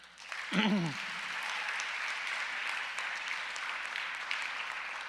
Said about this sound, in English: A little quick round of applause for Mr.